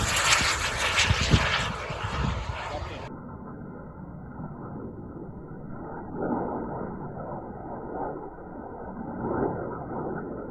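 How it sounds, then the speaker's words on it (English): Large remote-controlled model plane taking off from a runway, its engine drone rising and swelling in waves at moderate distance, with wind noise and a voice talking over it. "So that larger plane we saw at the beginning, this was it here, taking off"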